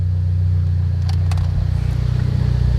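A Mitsubishi Evo X with SSport 2.0 tuning idling then pulling away, a deep steady engine rumble close by with a few faint clicks and a slight rise as the car starts moving.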